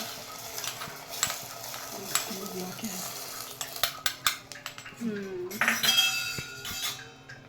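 A utensil stirs and scrapes in a pot of vermicelli payasam with clinks against metal, plus faint sizzling; brief murmurs of voices in the background.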